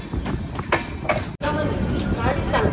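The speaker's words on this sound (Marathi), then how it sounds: "आपली ट्रेन अराईव्ह होते उडुपी जिल्ह्यातल्या उडुपी स्टेशनवर" A Konkan Railway LHB train pulls into Udupi station with a broad rumbling roar and rattle, close and fairly loud, with voices in the background.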